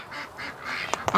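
Pekin ducks quack in a cold, frozen barn, a few short calls rising near the end over a low background murmur.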